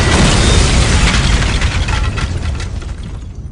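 A grenade explosion sound effect, a loud broadband blast that rolls into a long, slowly fading roar over about three and a half seconds, with no voices.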